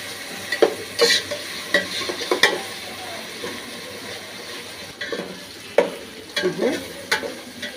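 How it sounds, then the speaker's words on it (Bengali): Onion, ginger and garlic paste fries in a pan with a steady hiss, broken by sharp scrapes and clinks of a spoon being stirred against the metal, heard close up with no talking. "পেঁয়াজ, আদা, রসুন হালকা ভাজার পর দিয়ে দেব 1 চামচ জিরা বাটা।"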